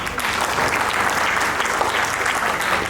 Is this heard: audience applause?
yes